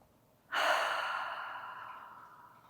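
A single deep, audible breath taken during a yoga session, starting suddenly and loudly close to the listener, then slowly fading as a long airy rush with no talking.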